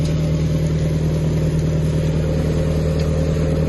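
A small engine runs steadily on a homemade farm machine built from a planed wooden beam, a loud, constant hum with a strong low drone and no variation.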